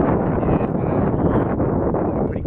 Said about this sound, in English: It's pretty windy around here.